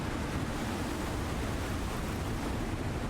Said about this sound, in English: A storm has begun.